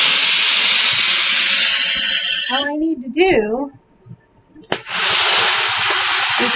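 A steam iron pressing on a blocking board lets out a loud, steady hiss that stops while someone speaks briefly, then bursts back just as strongly.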